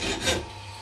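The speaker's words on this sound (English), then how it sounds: "And then you basically cut the thread off with a hacksaw." A hacksaw cuts the threaded end off a water rocket nozzle held in a vise, giving a short, close rasping stroke that swells and then settles into a steady scraping hiss.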